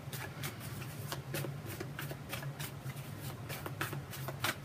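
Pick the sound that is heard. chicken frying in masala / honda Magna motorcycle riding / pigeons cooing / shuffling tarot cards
shuffling tarot cards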